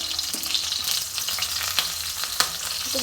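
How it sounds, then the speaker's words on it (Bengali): Whole cumin seeds and chilies fry in hot oil for a tempering, producing a continuous crackling sizzle with a few sharp pops and utensil taps, nearby and without speech. "বন্ধুরা দেখো সুন্দর জিরে ফোড়নটা ভালো ভাজা হয়ে গেছে, লঙ্কাগুলোও ভাজা হয়ে গেছে"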